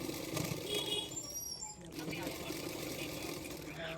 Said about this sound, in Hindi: पाइपिंग के किनारे किनारे पे सिलाई कर रही हूँ।